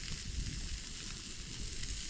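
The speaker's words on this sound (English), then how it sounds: "Hear that sizzle?" A steak sizzles over a campfire in the Boundary Waters wilderness in early May, giving a close, continuous crackling hiss with soft pops and a low fire rumble underneath.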